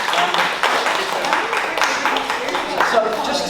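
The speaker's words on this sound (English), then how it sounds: "round of applause." An audience gives a round of applause at a church finance talk, a sustained wash of clapping that fills the room while some voices carry through it.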